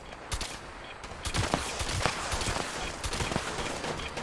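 Gunshots in Fallout 76, a run of sharp, irregular cracks, some clustered close together, fired over low background game noise.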